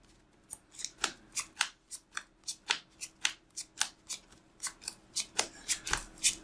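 Magic: The Gathering cards riffle-shuffled by hand during a Modern tabletop match, about twenty crisp, snappy bursts in a steady quick rhythm, close and clear with no talking.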